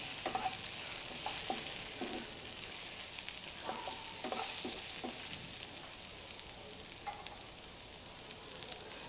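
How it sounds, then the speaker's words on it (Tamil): Biryani stirred in a pot just after pineapple goes in, a steady bubbling sizzle with scattered scraping clinks of the spoon against the pot, loud and close throughout with no talk. "பைனாப்பிள் போட்ட உடனே கிண்ணணும்"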